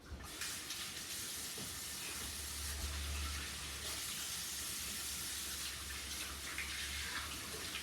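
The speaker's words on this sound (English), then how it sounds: "the first thing you'll need to do is wash your hands" Hands are washed under a running kitchen tap, a steady close rush of water with a low hum and faint splashing changes as the hands move in the stream.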